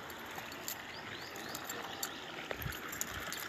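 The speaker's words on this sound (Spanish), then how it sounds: "este canalito, esta zanjita, túnel que lleva esta agua" Clear spring water flows through a small canal tunnel at a former hacienda's spring, a steady low gurgling rush with faint bird calls and no talking.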